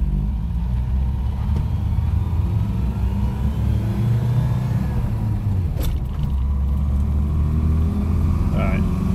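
A 1986 Toyota custom cab pickup with a turbocharged 22R-TE engine and CT26 turbo under throttle while driving, a loud, steady low engine rumble filling the cab from start to end, with no speech on top.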